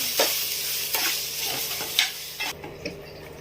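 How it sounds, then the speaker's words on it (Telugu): A spoon scrapes and stirs cooked rice into a sizzling tempering in a pan for mango pulihora, with several distinct clinks and scrapes over a steady frying hiss. "ఈ రైస్ను మనము ఇప్పుడు పోపు వేసుకున్నాం ఇందులో కలుపుకోవాలి"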